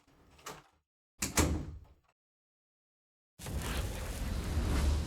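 A locked door rattles as someone tries it, two short bursts of handle and latch noise close by, then a pause before a louder, sustained wash of sound takes over.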